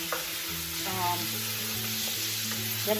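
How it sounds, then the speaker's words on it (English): Seasoned beef pieces, salted and peppered with garlic powder, browning in a soup pot, giving a steady close sizzle and frying hiss with faint stirring scrapes, continuous and unbroken, with no talking. "I'm gonna let this cook to brown it"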